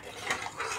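Rice stirred in a cooking pot, soft scraping and shuffling under a steady background hiss, with a couple of faint clinks, close and moderate.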